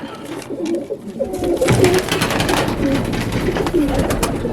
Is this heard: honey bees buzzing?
no